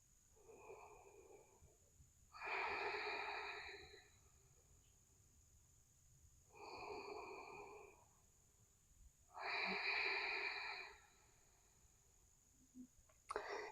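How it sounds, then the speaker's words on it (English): Deep yogic breathing during a pose: three long, loud, breathy exhales and inhales, each lasting a couple of seconds with quiet gaps between, close to the listener and alone without talk. "1 or 2 more rounds of breath here"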